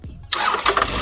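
Toyota Camry engine cranking and catching, a brief starter burst that settles straight into a steady idle, close and alone.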